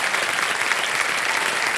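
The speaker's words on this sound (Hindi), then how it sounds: "ताली बज जाए इनके लिए" Studio audience on a televised quiz game show breaks into steady, dense applause, loud and continuous from start to finish with no pauses.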